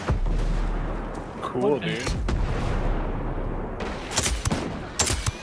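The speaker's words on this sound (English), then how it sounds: "Oh, I shot his poor co-driver." Gunfire in the video game Ghost Recon, with sharp loud shots in short bursts near the start and again toward the end, mixed with a rumbling boom and someone talking over it.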